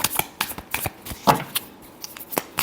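Tarot cards being shuffled by hand, with a rapid run of crisp riffling slaps and flicks in uneven bursts, close and fairly loud, and no voices.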